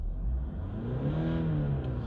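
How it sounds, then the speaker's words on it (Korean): A Kia All New Sorento idles steadily right after a cold start, a smooth, continuous low engine hum with a faint whir, close and even throughout, with no talking over it. "엔진 소리는 뭐 일단 기가 막혀 주네요"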